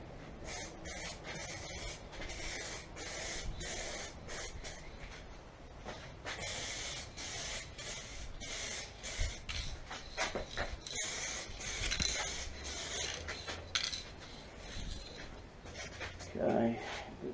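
Spray paint hisses steadily during the final coat on the sun visors of a 1976 Ford XB Fairmont Hardtop, with close, continuous spraying and a few brief pauses and clicks throughout.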